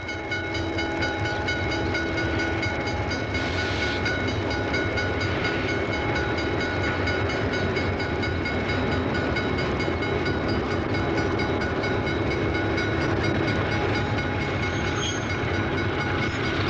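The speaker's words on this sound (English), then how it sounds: "the eastbound Peorian is noticeably shorter, only 3 cars, as it pauses at Blue Island" Rock Island passenger train, the eastbound Peorian cut to three cars, idles at the Blue Island station in cold weather, a steady loud rumble of engine and cars with faint whistle tones, no voices.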